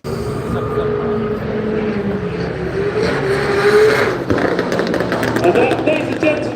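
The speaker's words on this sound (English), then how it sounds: "Apart from screeching tyres and roaring engines." Drift cars at a Drift Matsuri event at Silverstone Japfest roar and rev steadily, with screeching tyres, from a loud, continuous trackside wash that swells midway. A voice talks faintly underneath.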